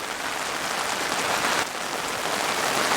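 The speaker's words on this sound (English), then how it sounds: "Now it's really hosing down, so this rain will be a really good test for this KEA 2." Heavy rain drums on a KEA 2 tent in a dense, steady hiss of countless drops striking the fabric, loud and close with no pauses.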